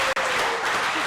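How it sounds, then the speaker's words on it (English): An audience at a theatre dialogue event in Kenya applauds a panel with loud, dense clapping, briefly cut off at the start before continuing steadily. "Please, a big, big applause for our panel."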